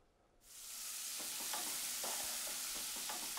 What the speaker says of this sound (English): browning and crisping and flavoring the olive oil before the onions and garlic saute